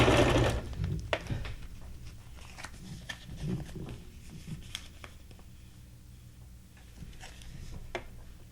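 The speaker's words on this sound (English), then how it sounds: "Oh, the tension was wonky on your sewing machine." A sewing machine with wonky thread tension runs in short bursts, its soft mechanical whirr starting and stopping over a low background hum, moderately close and fairly quiet.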